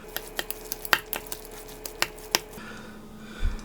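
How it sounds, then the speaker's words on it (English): Instant ramen noodles tossed together with steak in a pan, giving a run of soft, close clicks, squishes and scrapes at an uneven pace, fairly quiet, with no talking. "Take the instant ramen, put that in there. Give it a good old mix."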